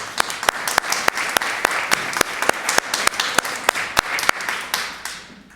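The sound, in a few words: audience applause for speaker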